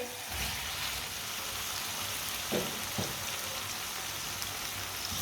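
Boiled potatoes land in a pan of hot spiced tempering, giving a steady, even sizzle and hiss throughout, close by, with no talk.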